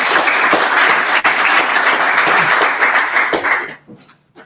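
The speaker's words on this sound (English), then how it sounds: "A round of applause first." A room of meetup attendees breaks into loud, dense clapping that holds steady for several seconds before thinning to a few scattered claps and stopping.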